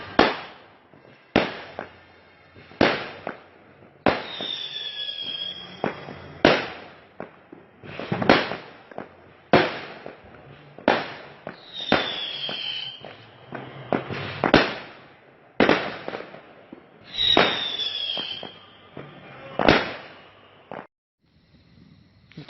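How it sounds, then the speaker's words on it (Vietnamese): New Year's Eve fireworks and firecrackers burst in a loud, irregular string of sharp bangs close by. Some blasts carry a brief whistle, and short pauses fall between the reports. No voices are heard. "vẫn pháo hoa ấy"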